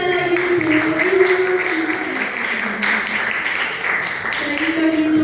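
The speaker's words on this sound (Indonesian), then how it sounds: "Tepuk tangan sekali lagi untuk Ibu." Audience applause for a speaker at a Pancasila education seminar, a steady wash of clapping heard behind a voice talking throughout.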